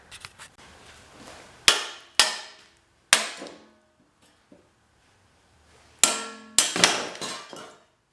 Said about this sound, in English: let's see if we can bash this this plate out of here